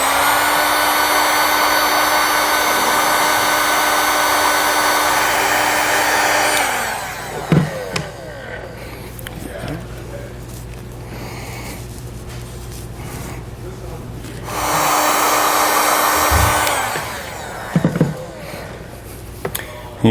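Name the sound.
heat source blowing on winch cable wiring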